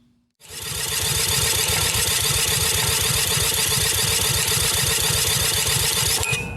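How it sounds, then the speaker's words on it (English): A water-damaged Tecumseh 10 hp engine on an old Craftsman riding lawnmower catches suddenly and runs loud and close, blowing back through the carburetor. It holds a rough, rapid, pulsing drone without pause. "Yeah, something don't sound right. And notice she's blowing out the carburetor."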